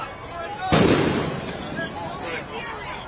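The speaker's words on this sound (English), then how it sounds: "those are industrial fireworks, which the protesters have been tossing at police" A single loud industrial firework bursts with a sharp crack, thrown by protesters at police during street confrontations, followed by a long rumbling decay in a noisy outdoor setting.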